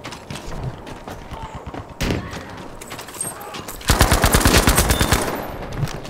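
Automatic weapon fire in the shooter game Battlefield V: loud rapid bursts with sharp repeated cracks, the heaviest sustained burst near the end, mixed with mechanical clatter and game effects.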